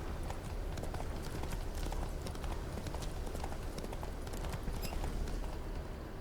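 Roach, the horse in The Witcher 3, galloping at full pace, a continuous rapid drumming of hooves over a loud rushing wind-like bed with no pauses.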